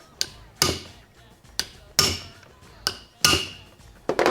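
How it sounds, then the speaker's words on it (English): Sharp hammer blows staking a divot into a pinion nut on a Turbo Barra 80 series build, six separate metallic whacks spaced irregularly, close and loud, each ringing briefly before the next. "you got this little divot in the nut that you hit in, so it can't undo itself"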